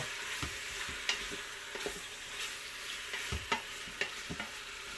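Meat for posole sizzling in a hot pan, with a constant frying hiss and soft intermittent scrapes and taps as it is tossed and turned, fairly quiet and close, with no voices.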